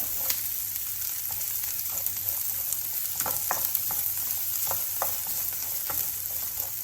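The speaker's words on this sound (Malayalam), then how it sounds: "അതിലോട്ട് അരിഞ്ഞു വെച്ച 2 ചെറിയ സവോള ഇടുക. അതിനുശേഷം നന്നായി ഒന്ന് വഴറ്റുക" Chopped onions sauté in a hot pan with a steady, close sizzle throughout, broken by scattered light scrapes and clicks of a spatula stirring, and no voices.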